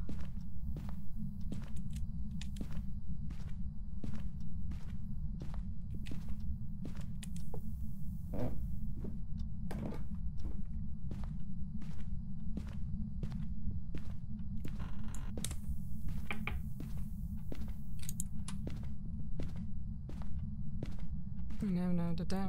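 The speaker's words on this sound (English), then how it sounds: "You just have to listen to the footsteps." Ghost footsteps during a hunt in the horror video game Phasmophobia, a steady run of sharp thuds over a constant low rumble, with a busier flurry of steps near the end.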